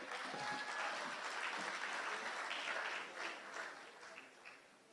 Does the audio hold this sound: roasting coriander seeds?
no